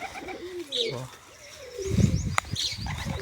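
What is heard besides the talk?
white pigeons landing and cooing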